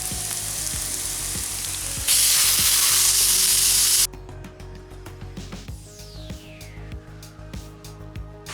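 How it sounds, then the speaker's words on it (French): Ground beef sizzling with browned onions in a pan: a steady loud hiss that swells briefly louder, then drops to quieter crackling frying with rhythmic stirring knocks and scrapes of a utensil, no voices. "Pendant que la viande hachée est en train de cuire"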